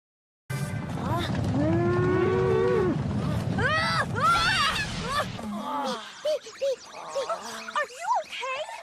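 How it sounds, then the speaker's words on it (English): Herd of bull Pokemon (Tauros) stampeding, a loud burst of rumbling hooves under drawn-out bellowing moos that give way to shorter scattered calls and cries. "He's just been trampled on by a load of bull Pokemon."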